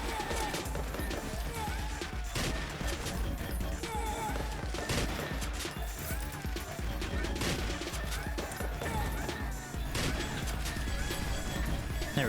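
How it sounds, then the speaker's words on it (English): Big bullets firing nonstop in the Slime 3k video game, a dense, loud barrage of rapid shots and crashing impacts layered over busy game music for the whole stretch. "There go the big bullets"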